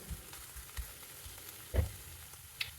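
Chicken frying in a pan for a curry, a soft steady sizzle at low level with occasional stirring clatters and scrapes of the spoon.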